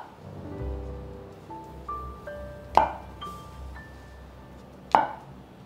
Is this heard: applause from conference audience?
no